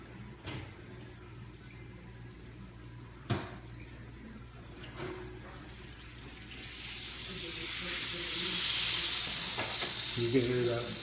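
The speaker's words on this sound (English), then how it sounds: "You can hear that butter hot." Butter sizzles hot in baking pans for a cobbler, a soft crackling hiss that builds and grows louder in the second half, with a few clanks and knocks of pans being handled nearby.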